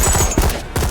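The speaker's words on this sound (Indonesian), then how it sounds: "Di sini Ross terkena tembakan saat melindungi Nakia dari serangan Eric" Rapid gunfire crackles through a film fight scene, a quick close burst of several sharp shots with no talking.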